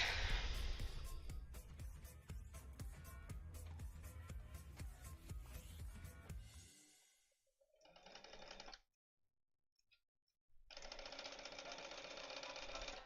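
A home sewing machine stitches pieced quilt seams in quick, close rhythmic bursts for several seconds, then stops, with short quieter runs after a pause.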